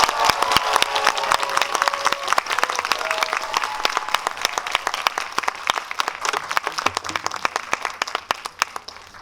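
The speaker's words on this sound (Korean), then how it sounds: "박수로 맞이해주세요" Cinema audience at a premiere screening Q&A applauding in a dense, sustained round of clapping that fades slightly toward the end, loud and close to the listener.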